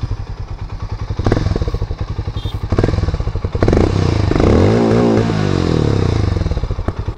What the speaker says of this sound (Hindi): एक बार एग्जॉस्ट साउंड सुना देता हूँ आप लोगों को